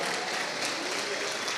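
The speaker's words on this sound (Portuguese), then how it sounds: "Você pode dar um aplauso para Ele nessa manhã?" A church congregation at a Sunday communion service breaks into sustained applause, a dense, even wash of many hands clapping at once, steady and fairly loud throughout, with faint voices mixed in.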